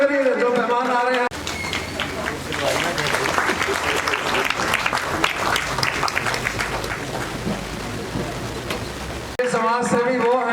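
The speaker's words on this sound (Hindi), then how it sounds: "जोरदार तालियां बजाया करिए जो मेहमान आ रहे हैं।" Loud, sustained applause from an audience welcoming arriving guests at a Hindi-language gathering, a dense wash of clapping lasting several seconds with speech before and after it.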